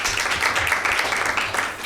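An audience at a Bible quiz show applauds a correct answer with a brief, dense burst of clapping from many hands, steady and fairly loud throughout.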